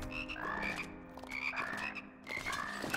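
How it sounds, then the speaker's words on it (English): Frogs in the video game Immortal Redneck croak in repeated rhythmic, throaty pulses, layered and fairly loud, with no voices over them. "I thought the frog was dead"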